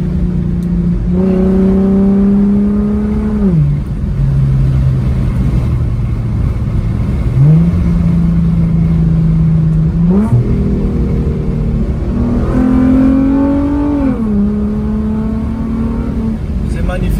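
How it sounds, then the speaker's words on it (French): A car's engine revs and accelerates after a downshift, pitch climbing through several gear pulls with steady, loud engine drone throughout and brief dips between shifts. "La réponse à l'accélérateur est immédiate"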